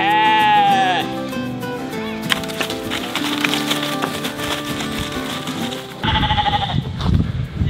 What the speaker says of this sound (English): We're gonna move some sheep